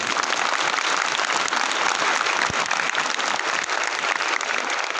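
An audience claps steadily and densely through the whole stretch, a continuous loud wash of applause at an indoor gathering with no pauses and no talk.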